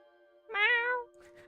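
A single drawn-out cat meow, close and fairly loud, rising then falling in pitch for about half a second, followed by a couple of faint soft noises.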